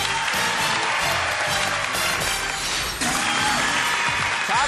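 A television quiz show's studio audience claps loudly for the contestants advancing to the next round, a dense, sustained burst of applause that carries on for several seconds over a busy background of studio sound.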